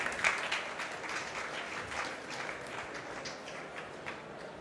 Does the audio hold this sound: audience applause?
yes